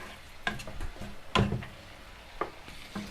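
Soft sizzling of tomatoes cooking in a pan with a few scraping stir sounds, close by and fairly quiet, no voices.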